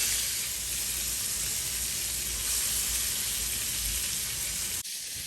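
A pork chop sears in a hot pan just after being flipped, giving a loud, steady, dense sizzle with no talking, briefly dipping near the end.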